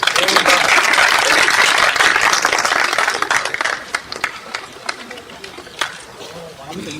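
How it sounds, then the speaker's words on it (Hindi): An audience applauds loudly at a church groundbreaking ceremony. The clapping is dense and sustained at first, then thins to scattered claps under voices and chatter. "जोरदार ताली हो जाए."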